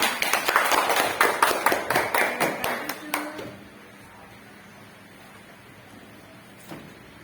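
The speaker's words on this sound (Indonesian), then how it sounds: "Tepuk tangan untuk kalian." Children in an elementary school Pancasila class clap their hands together in a quick rhythmic burst of about a dozen sharp beats, which stops abruptly and leaves quiet room tone and a single faint knock.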